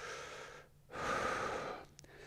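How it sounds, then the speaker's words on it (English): A single close, breathy exhale during a hip stretch, a long soft rush of air followed by a brief quieter intake, with no speech. "breathe out"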